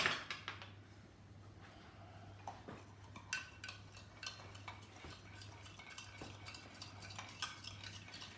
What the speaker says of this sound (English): So let's give this another little stir.